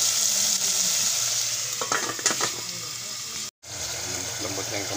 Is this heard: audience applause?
no